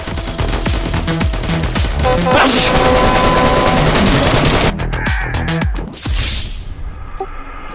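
Rapid bursts of automatic gunfire and explosions in the video game DayZ fill the scene, loud and continuous, with a few voices briefly heard underneath.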